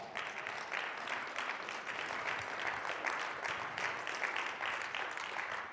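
An audience at a keynote session on education applauds in a steady, even wash of clapping. It is fairly faint and distant and continues for about six seconds with no talking.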